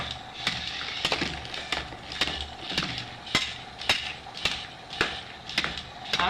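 Swinging hammer weapon on a toy Hexbug battlebot strikes in quick repeated sharp plastic clacks, about twelve hits at a steady, fairly fast rhythm, close and crisp over a faint motor whir.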